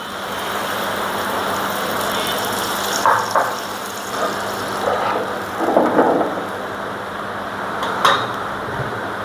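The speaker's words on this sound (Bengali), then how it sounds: "বাইরে কত সুন্দর বাদল ছাড়ছে, ঝড় বৃষ্টি উঠে আছে।" An outdoor thunderstorm with steady rain hissing throughout and several rolling thunder rumbles rising at intervals, moderately loud and heard without speech.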